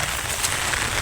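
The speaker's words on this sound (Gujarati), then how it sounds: "જુઓ દોસ્તો, હજુ કાલનો વરસાદ બંધ નથી રહ્યો." Continuous rain patters outdoors, a close, even wash of drops with no voices present.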